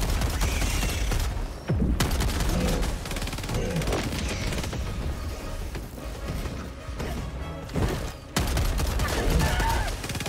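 Dense, sustained gunfire in the co-op shooter Helldivers, bursts of rapid shots and blasts filling the scene loudly and continuously, with brief dips between volleys and faint voices mixed in.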